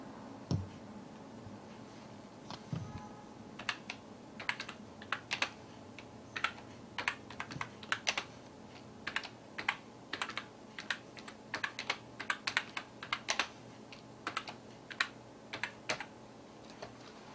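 A caption is typed on a computer keyboard, a quiet, close patter of separate key clicks in uneven bursts with short pauses between them, no talking.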